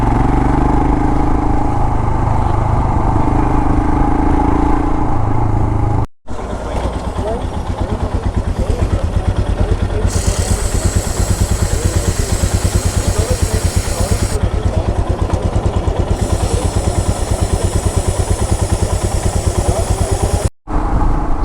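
A Royal Enfield motorcycle riding along a road, its steady engine thump loud and close throughout, with brief cutouts and a rise in wind and tyre hiss partway through.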